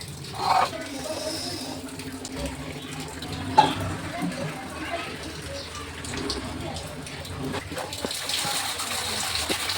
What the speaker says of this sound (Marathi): आता हे पाणी आपण ह्याच्यात सोडायचं